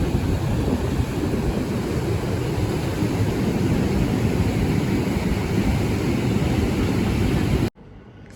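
Sea waves roll and break steadily on a Tuscan beach, a loud continuous wash of surf that cuts off abruptly near the end.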